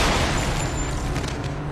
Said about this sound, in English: Shot in the head by Carol.